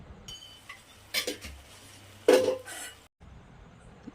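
A spoon scrapes and clinks against a pan while stirring vermicelli kesari with ghee, giving a few sharp metallic knocks and softer scraping strokes at close range, with a brief silence near the end.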